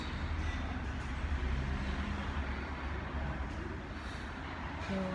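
A train arriving at a public station platform, a steady low rumble of rolling wheels and traffic-like noise holding at a constant level throughout, fairly loud and close, with no voices.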